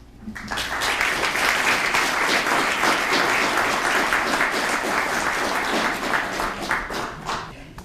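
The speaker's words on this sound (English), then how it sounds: "please give her a big round of applause" An audience at an evening lecture on Korean popular culture breaks into loud, sustained applause for the woman being introduced at the podium, a dense wash of clapping that fades slightly toward the end.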